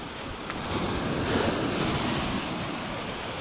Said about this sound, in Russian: Такие большие волны здесь сегодня, огроменные просто